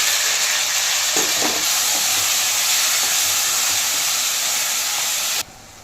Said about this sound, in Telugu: ఇప్పుడు శుభ్రంగా కడిగి పెట్టుకున్న చికెన్ వేసుకోవాలండి